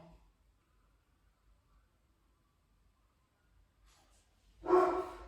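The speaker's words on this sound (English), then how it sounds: "you're going to hear my dogs bark" A dog gives a single loud bark near the end of a mostly quiet stretch during a home workout, with faint indistinct noises beforehand.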